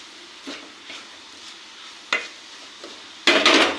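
Grated coconut and milk stirred in a pan, with a spoon scraping in a few soft, separate strokes and then a louder, brighter scrape at the end, heard alone.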